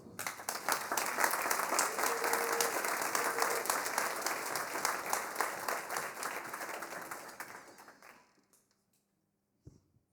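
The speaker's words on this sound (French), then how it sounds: "qui va donc me rejoindre sous vos applaudissements" Audience at an autumn concert by a wind band applauds in a sustained, close burst that fades out near the end, followed by near silence and a single faint knock.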